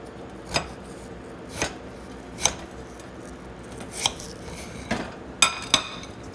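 A kitchen knife slicing potatoes into thick wedges against a cutting board, sharp isolated chops spaced a second or so apart with a pair close together near the end, close and clear with no talking.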